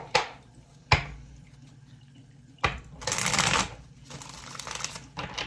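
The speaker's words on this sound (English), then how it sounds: "let's go ahead and pull some cards" Tarot cards being shuffled and pulled, with sharp card snaps followed by longer riffling bursts of shuffling, close and fairly quiet, with no talking.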